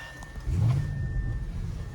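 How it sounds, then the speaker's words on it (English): A 2021 Audi RS6 Avant starts up on a cold day, a brief crank followed by the engine catching into a deep, fairly loud rumbling idle heard from inside the car. "So let's fire this thing up"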